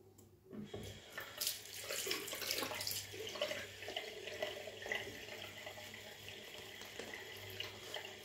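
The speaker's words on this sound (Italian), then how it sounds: "Mettiamo ancora un po' d'acqua." Water runs from a bathroom tap into a sink during a wet shave, starting abruptly and then flowing steadily, a close, moderately quiet splashing rush.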